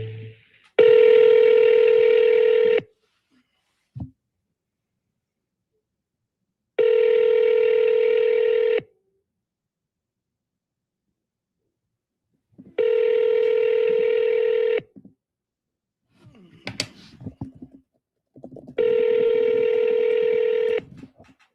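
A telephone gives four evenly spaced long dial-tone bursts of about two seconds each, separated by silence. A brief flurry of quick DTMF key beeps falls between the third and fourth bursts, loud and close, with no talking.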